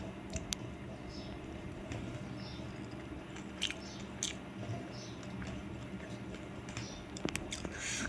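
Close, soft chewing of food mixed with prawn paste, with intermittent crunchy bites and wet mouth sounds over a low steady background.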